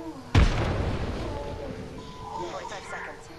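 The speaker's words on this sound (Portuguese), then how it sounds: "Olha, granada." A grenade detonates in the Apex Legends video game, one sharp, loud boom followed by a rumbling decay lasting about three seconds, with faint game sounds trailing after.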